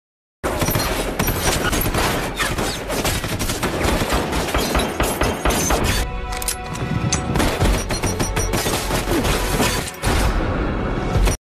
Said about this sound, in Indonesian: Sementara itu baku tembak sempat terjadi di tempat itu.